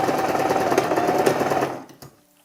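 A sewing machine runs a quick, rapid burst of stitches through a kaftan dress, loud and close, then stops abruptly with a short mechanical clack.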